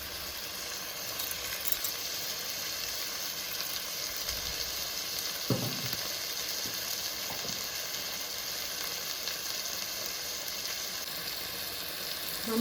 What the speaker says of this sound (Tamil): மஞ்சத்தூள், உப்பு போட்டு நல்லா எல்லாத்தையும் நல்லா வதக்கணும்